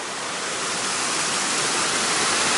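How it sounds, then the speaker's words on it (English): A steady, loud roar of rushing water pours from a nearby waterfall on a creek in North Carolina, constant and unbroken. "There's actually a waterfall below me."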